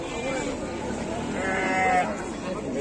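A meat-class sheep bleats a few times nearby at a livestock market in Glenmore, Banyuwangi, its wavering cries mixed with people talking in the background.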